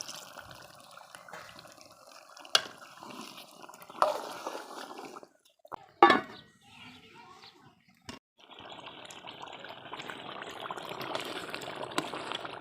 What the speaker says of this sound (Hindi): थोड़ा सा पानी शामिल कर लेंगे इसमें।